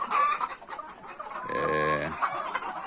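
Chickens in a poultry yard cluck and call close by, including a drawn-out tonal squawk midway, while someone talks quietly in the background.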